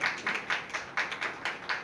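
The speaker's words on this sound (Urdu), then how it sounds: "تالی بجائیں یسوع نام کے لیے, تالی بجائیں, زور سے تالی بجائیں" A church congregation clapping together in praise of Jesus, a steady, evenly spaced beat of claps at a brisk tempo, moderately loud.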